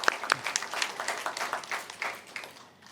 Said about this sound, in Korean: 박수 좀 치십시다